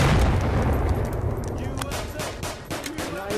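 Heavy, continuous gunfire in the virtual reality shooter Onward, loud dense volleys with sharp individual shots cracking through, under excited voices.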